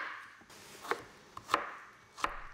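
A knife chops subtropical fruit on a cutting board, giving three or four crisp, separate thuds at an uneven pace, quiet and close, with no talking.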